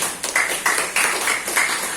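An audience at a business presentation claps in a short, loud burst of rhythmic applause, several quick waves of hand claps filling the room, with no talking.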